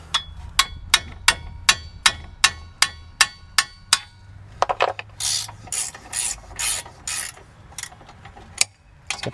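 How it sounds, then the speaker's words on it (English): About eleven sharp metallic hammer blows strike rear brake parts on a Hyundai Palisade in quick, even rhythm, then give way to several rougher scraping and grinding bursts, close and loud. "Use a hammer."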